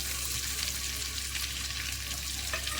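Crushed garlic sizzles in hot ghee with cumin and mustard seeds, a tempering for dal khichda; a steady, close crackling fry runs throughout without any talk.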